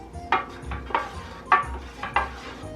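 Reese's Puffs cereal pieces are sprinkled onto a homemade pizza, giving four or five short, light clattering bursts spaced about half a second apart, close and fairly quiet, with no talking.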